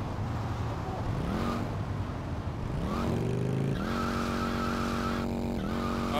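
A car skidding under handbrake in the driving and crime game GTA Vice City, with a droning engine and repeated tire squeals and shifts in engine pitch, loud and continuous throughout.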